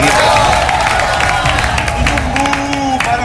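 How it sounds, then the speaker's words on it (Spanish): A crowd breaks into applause for Virginia Gómez, loud and continuous clapping mixed with cheering and some voices talking over it throughout. "aplauso para Virginia Gómez."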